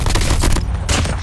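Rapid gunfire from Call of Duty Mobile crackles nonstop in a loud, dense burst of overlapping shots, with no pauses.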